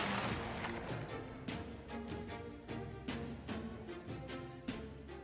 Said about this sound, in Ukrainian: Я чув, що хтось стріляє в мене